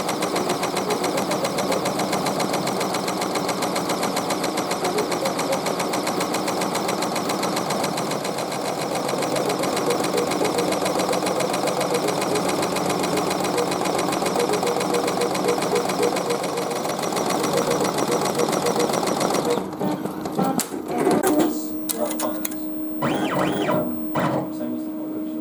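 An embroidery machine stitches a cap design with a steady fast mechanical whirring and knocking rhythm, continuous and close, then gives way to clicks and a winding-down whine near the end.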